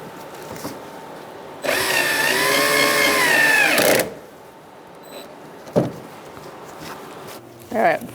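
A power tool drives screws fastening the bumper to the body of a 2010-2013 Kia Soul 2.0L during radiator replacement, one loud whirring burst of about two seconds, then quieter clicks and handling noises.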